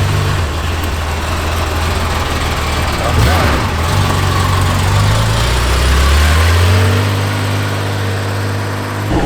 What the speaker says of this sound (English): The boys are off in their 911s